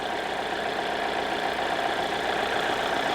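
A Hyundai Sonata engine with a P0011 camshaft timing fault idles in a steady, even drone with a faint, uneven undertone, close and continuous, with no talking.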